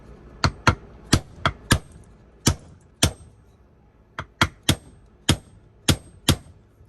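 Sharp metallic hammer strikes seating bearings onto the input shaft of a Traxxas Magnum 272 RC transmission, about fourteen close, loud hits in irregular clusters with brief pauses between.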